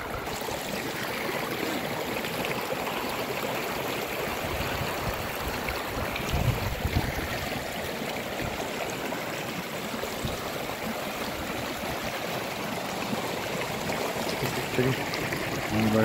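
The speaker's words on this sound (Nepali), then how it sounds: "सफा पानी छ मुहानमा, यस्तो छ पानी" Steady rush and gurgle of clear mountain water at the source of the Chamelia river in the Nepalese hills below the Himalaya, a continuous broadband flow heard close and alone for the whole stretch.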